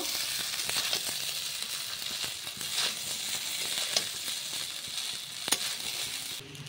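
Chili chicken egg fried rice is stirred in a hot pan, giving a steady, bright sizzle with occasional soft scraping and a few sharp utensil clicks throughout.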